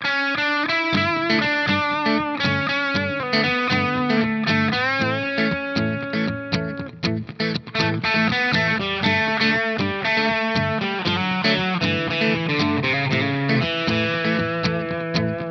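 A distorted electric guitar plays a flowing, bluesy melodic solo line over a song's chord changes, with bent and sustained notes, fairly loud and unaccompanied by voices.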